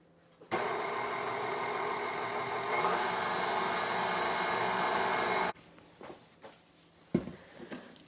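An electric mixer beating raisin nut cookie dough with spices, a steady loud whirring drone for about five seconds that stops abruptly, followed by quiet knocks and clatter of bowl handling nearby.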